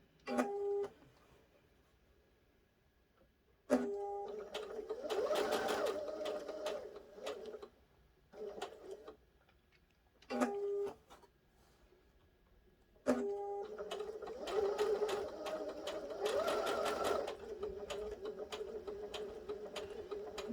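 A sewing machine driven by a foot pedal runs in several separate bursts of stitching, each with a sharp start, separated by near-silent pauses while making a small lip balm pouch.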